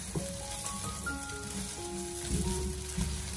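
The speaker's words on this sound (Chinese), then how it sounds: "将鸡蛋两面煎至金黄色" Eggs frying in oil in a wok, browning on both sides: a steady close sizzle with soft scraping and clinks from a spatula, and a faint whistling tone in the background.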